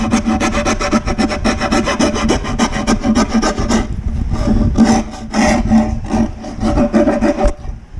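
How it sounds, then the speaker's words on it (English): A Nicholson rasp files wood while shaping a beehive nuc lid, loud, close rhythmic rasping strokes in rapid succession with a short pause midway, then more vigorous scraping. "I find it just as quick and easy to hit it with a Nicholson rasp."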